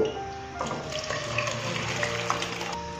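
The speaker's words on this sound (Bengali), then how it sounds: "তেলটা গরম হয়ে এসেছে, আমি এখন এটা পুরোটাই একসাথে আমি ঢেলে দিব।" A mixture of beaten egg and vegetables is poured into hot oil in a pan, producing a steady hissing, sizzling rush that continues loudly for the whole few seconds with no talking.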